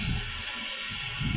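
Swollen river water rushing steadily after a flood, a constant close wash of noise with no breaks and no voices.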